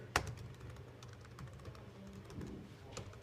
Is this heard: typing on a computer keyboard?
yes